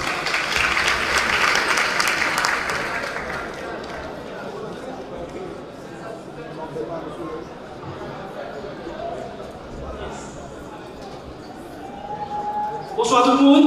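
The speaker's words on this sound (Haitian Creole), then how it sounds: "applaudissements" Applause at a political rally swells loudly for a couple of seconds, then thins into scattered clapping and crowd murmur, with a voice rising near the end.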